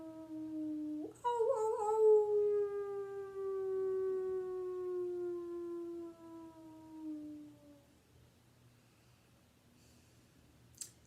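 A voice imitates a gentle wolf howl during a group circle: one long, sustained howl rises at the start, then slowly glides downward and fades over several seconds, followed by quiet.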